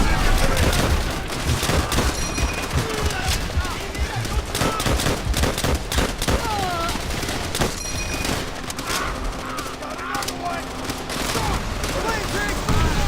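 Gunfire in Call of Duty: World at War, a World War II shooter game: dense, continuous rifle and machine-gun bursts with booming explosions, loud and unbroken, with voices shouting beneath the battle.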